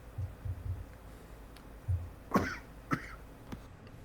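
A few soft coughs, two distinct ones in the middle and a faint third, over a quiet room with low thumps earlier.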